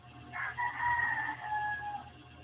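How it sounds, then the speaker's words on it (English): A single rooster crows one drawn-out cock-a-doodle-doo at moderate distance, rising and holding before tailing off, over a faint low steady hum with no speech. "I love the rooster."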